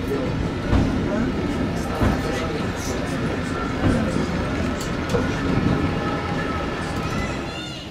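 Funicular railway climbing from the town up to Orselina above Lake Maggiore in Switzerland, a steady rumbling rail run with clattering wheel knocks throughout, heard under a speaking voice.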